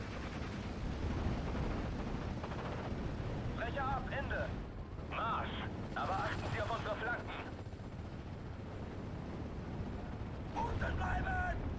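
Aircraft bomb and strafe a 17-pounder gun in Steel Division: Normandy 44, making a dense rumble of explosions and rapid gunfire. Someone talks intermittently over the battle noise.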